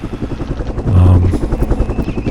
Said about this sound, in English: So they have another helicopter as well up there.